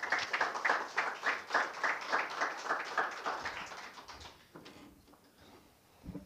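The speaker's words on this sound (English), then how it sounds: "A big round of applause for our speaker tonight." Audience applause for a speaker at an evening book launch event, steady dense clapping for about four seconds that thins out and fades to a few scattered claps.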